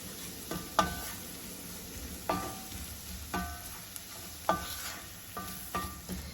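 All-purpose flour cooks in a pan for a turkey pot pie, giving a soft, quiet sizzle broken by repeated stirring scrapes and clinks at an uneven rhythm.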